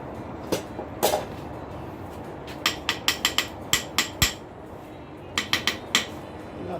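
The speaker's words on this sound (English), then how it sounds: "I'll try my little hammer I made." A small homemade hammer strikes hot metal while shaping a metal rose. Roughly a dozen sharp, ringing blows come in uneven clusters, close and fairly loud, with quiet pauses between them.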